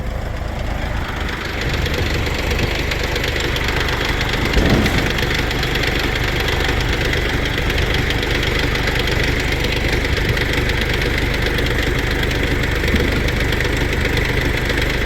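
A tractor engine idles loudly and steadily while its hydraulics slowly lower a heavy box under gravity, a continuous low rumbling drone with a faint knocking texture and a brief clunk partway through.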